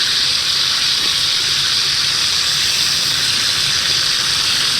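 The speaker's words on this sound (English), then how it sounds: "Well, yeah, bacon's crisping up." Thick-cut applewood bacon sizzling in a pan at a beach campsite, a steady dense hiss and crackle running without a break.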